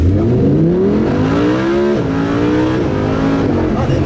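A Lamborghini Huracán LP610-4 launches hard in sport mode, the engine climbing loud and near toward the rev limiter, with rising pitch broken by quick gear shifts as it accelerates.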